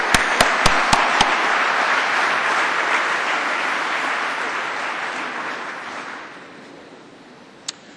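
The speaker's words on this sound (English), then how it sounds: "give him a big hand" Audience applause, a dense wash of many hands clapping with a few sharp claps at the start, fading out over several seconds to near quiet.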